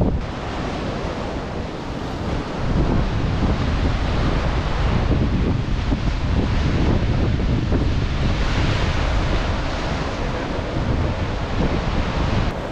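Ocean surf breaks on a beach in Tayrona Park, Colombia, in the morning, a loud, continuous roar of crashing waves with heavy wind buffeting the microphone throughout.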